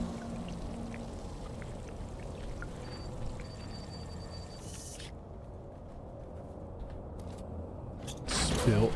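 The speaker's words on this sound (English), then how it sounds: "Spilling water." Water spills and pours in Dune: Awakening, a continuous gushing, splashing stream that drops out partway through and then surges back loudly near the end.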